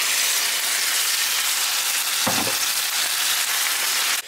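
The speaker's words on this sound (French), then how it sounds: "Quand la viande commence à cuire, je rajoute la sauce tomate." Meat frying in a pan with tomato sauce added, a steady loud sizzle and hiss with a brief stirring scrape midway, no talk.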